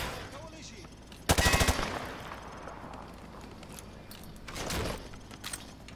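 Short rapid burst of gunfire through light cover in Call of Duty: Modern Warfare 2 Remastered, a sharp, loud rattle of several quick shots, followed by quieter rumbling and a second softer burst.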